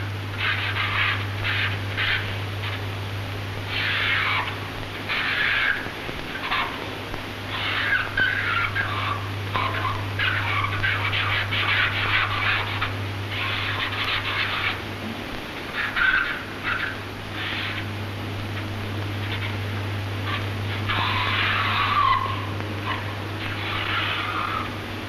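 Picasso draws with a marker on paper in a classic film sequence: scratchy, squeaking strokes come in uneven bursts of varying length over a steady low hum.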